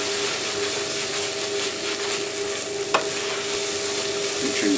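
Chopped meat for hot dog sauce sizzles steadily in a pan while being stirred, a continuous close frying hiss with one sharp scrape of the spoon midway and no voices.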